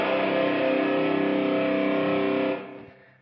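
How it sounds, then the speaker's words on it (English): A Gibson SG electric guitar in drop C tuning rings out with a thick, heavy sustained chord that holds steadily, then fades away at the end, with no talking. "And that drop C sounds something like this."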